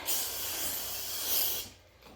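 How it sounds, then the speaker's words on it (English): Disinfectant is sprayed from a can in one steady, fairly close hissing burst lasting well over a second, then it cuts off into near silence. "I'm gonna spray everything."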